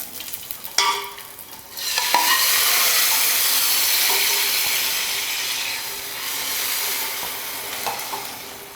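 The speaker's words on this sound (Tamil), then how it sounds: "தாளிச்சதை ரசத்தில் ஊற்றிக்கலாம்." Hot ghee tempering with curry leaves and coriander sizzles sharply as it is poured into Mysore rasam, a loud hiss bursting in and then settling into a steady crackle alongside a few clinks of a spoon or vessel.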